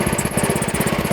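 A diesel engine runs on a SealMaster heated asphalt distributor as its pump cycles, giving a loud, close, steady rhythmic chugging with a regular pulsing beat and a high whine above it, with no talk.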